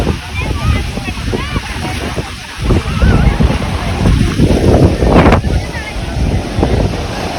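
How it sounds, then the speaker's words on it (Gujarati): Sea waves surge against a Kathiawad shoreline, the rushing water mixed with heavy wind buffeting on the microphone while people talk excitedly close by. "કેવું મોજા વધે જોઈએ"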